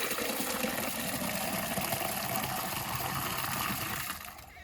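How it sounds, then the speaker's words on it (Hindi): Water pours into a drinking bowl for birds, a steady close rushing gush that holds evenly for several seconds and then eases off at the end. "इसको इसमें और पानी डालूंगा थोड़ा सा।"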